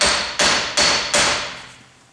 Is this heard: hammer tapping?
yes